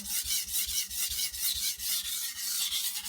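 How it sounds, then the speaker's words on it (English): Knife bevel being ground during sharpening, a steady rasping rub with an even back-and-forth rhythm of strokes, close and fairly loud, with no talk. "I'll continue to grind a little bit on one nice, even, consistent bevel"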